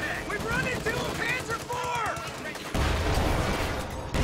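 Piercing rounds fired at a Sherman tank in Company of Heroes 2, a stream of distant gunfire and impacts under battle noise, ending in a louder, denser rumble of shots.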